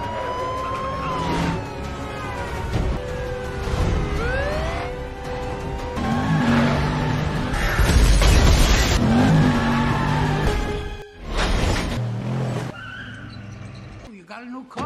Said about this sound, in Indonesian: mobil itu melaju 160-an km per jam saat melewati rel